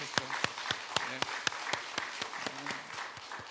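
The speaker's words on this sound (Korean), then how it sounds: "우리 주님께 영광의 박수를 한번 올려드렸으면 좋겠어요." A church congregation at a special early-morning prayer service claps in unison, a steady rhythmic beat of roughly four claps per second, moderately close, with faint voices underneath.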